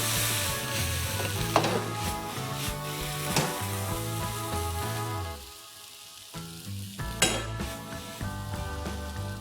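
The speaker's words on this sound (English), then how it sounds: "Toss this well and make sure it's mixed nicely." Vegetable Hakka noodles with bean sprouts tossed in a hot wok, a loud continuous sizzle broken by repeated scraping and clanking strokes of the utensils, briefly dropping quieter before the tossing resumes.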